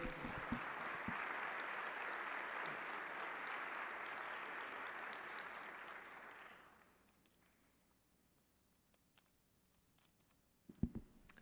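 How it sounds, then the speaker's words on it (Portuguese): A church congregation at a Portuguese-language service applauds steadily for about six seconds, then the clapping fades into near silence, broken by a few scattered clicks and a small thump near the end. "Você pode aplaudir a palavra do Senhor?"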